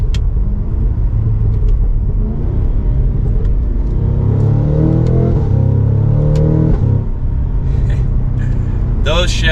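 A 2023 Cadillac CT5-V Blackwing's exhaust rumbles loudly under mild acceleration, rising through gears with a quick shift, heard from inside the car with a voice talking over it.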